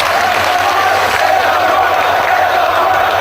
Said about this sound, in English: you can hear these fans applauding these two men's brave efforts